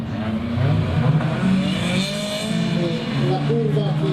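Several autocross race cars in a multi-car start roar through the first corner of a U.I.S.P. Trofeo del Nord race, their engines revving loudly and overlapping, while a commentator talks over them.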